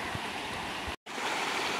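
Flowing river water rushes steadily and close by as a drinking filter is tested, a broad continuous wash broken by one very short dropout near the middle.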